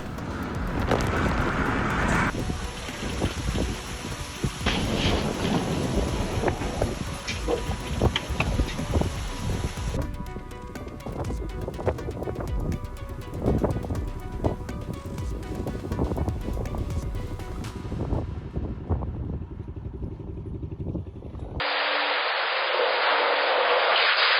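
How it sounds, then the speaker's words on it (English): Loud gusting wind buffets the microphone with a rushing roar of heavy rain in Hubei province, shifting in intensity, ending in a burst of hiss. "Heavy rain and strong winds hit Hubei province on April 11"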